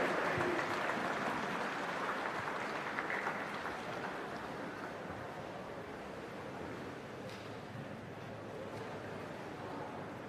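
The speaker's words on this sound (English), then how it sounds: "Round of applause for Monique Wierzowski, national champion, 100 metres breaststroke." Spectators applaud a national champion in the 100 metres breaststroke at the New Zealand Swimming Championships, a broad distant wash of clapping echoing through the pool hall that slowly tapers off.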